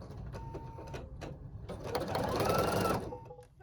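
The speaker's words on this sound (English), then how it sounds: "I'm going to be stitching the little eyelet that is going to be punched out for the ribbon" Embroidery-style sewing machine stitching a small eyelet on a reusable gift tag: clicking, tapping needle strokes, then a louder run of rapid whirring stitches before it slows.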